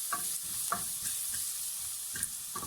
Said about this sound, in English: It's like we're toasting them on top of the onions